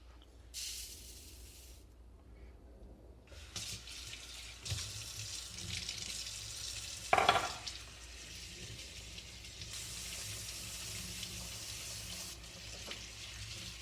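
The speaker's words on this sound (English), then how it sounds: "Time to wash the rice." Rice is washed under a running kitchen tap, a steady close hiss of water with swishing and splashing as the grains are stirred, and one brief louder splash partway through.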